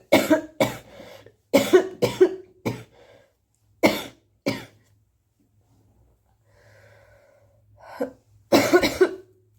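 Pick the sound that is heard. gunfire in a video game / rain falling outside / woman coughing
woman coughing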